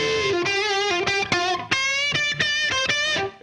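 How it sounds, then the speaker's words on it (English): A short run of distorted electric guitar notes and chords from a PRS guitar on its single-coil treble pickup, bright and biting, played in quick rhythmic strums with no talking. "this is a single coil. It sounds like this."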